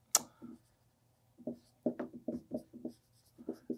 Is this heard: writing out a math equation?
yes